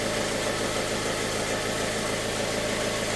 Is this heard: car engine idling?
yes